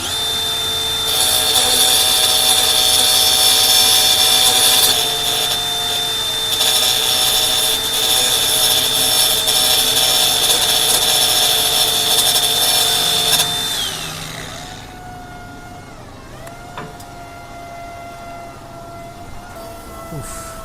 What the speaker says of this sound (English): Just have to drill that out.